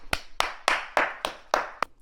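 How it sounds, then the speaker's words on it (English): Seven sharp, close hand claps land in a steady, unhurried rhythm about a third of a second apart. Each is distinct, with no talk between them. "Clap it up"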